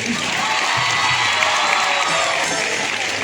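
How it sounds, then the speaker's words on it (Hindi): An audience at a church conference competition and prize-giving claps and cheers, a brief, dense burst of applause with scattered shouts filling the room. "ताली में कोई कंजूसी नहीं।"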